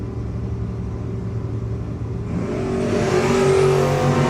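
A Chevrolet Malibu and a Ford Mustang race side by side at a no-box drag racing shootout, a loud engine rumble building into a rising, roaring surge of acceleration near the end.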